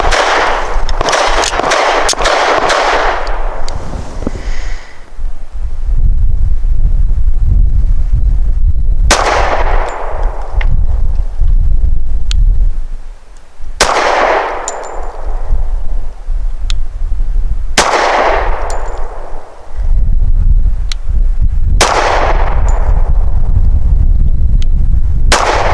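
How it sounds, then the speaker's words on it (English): An American Classic Commander 1911 pistol fires 230-grain SIG full metal jacket rounds at an outdoor range, with five sharp, loud, ringing shots spaced several seconds apart, starting with a quick cluster and no talk. "For our 5 shots from 7 yards grouping, we'll be using the SIG Elite Performance Ammunition."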